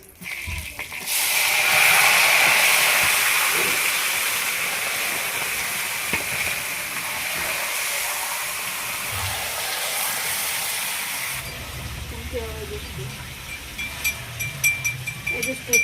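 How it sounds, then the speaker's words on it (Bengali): Chicken pieces drop into hot oil for a chicken biryani, setting off a loud, steady hissing sizzle that slowly fades, followed by clinks and a bit of kitchen handling. "তেলটা গরম হয়ে গেছে আর মাংসটা এবার আমি দিয়ে দেবো।"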